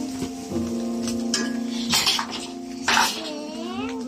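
Eggs are whisked in a bowl for scrambled eggs, with utensils clinking and scraping against the dish in a few sharp bursts over a steady background tone, close by and without voices.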